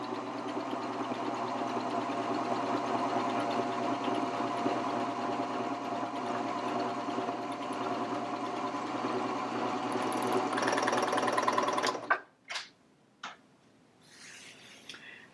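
Baby Lock Vibrant serger stitching fabric with black thread in the lower looper and orange needle thread, a steady fast mechanical whir running continuously for about twelve seconds, then stopping abruptly, followed by a few brief clicks and handling noises.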